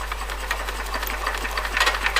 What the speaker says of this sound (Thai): แล้วผมก็มาทดสอบกับเครื่องยนต์คูโบต้าครับ